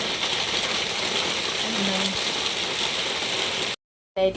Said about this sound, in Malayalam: ഞങ്ങളുടെ നാട്ടിൽ മഴ പെയ്യുന്നുണ്ട്